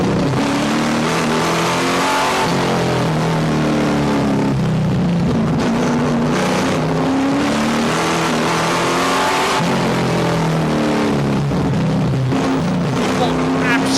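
A V8 endurance race car roars around a raceway in a European Le Mans Series race, the engine loud and sustained with rising and falling revs as it accelerates and shifts, under a commentator's voice.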